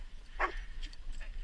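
A dog at home gives a single short bark or yip, close and moderately loud, followed by quiet room sound with no talk.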